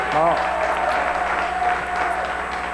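Studio audience applause on a French-language comedy game show, a steady bed of clapping with a voice briefly talking over its start.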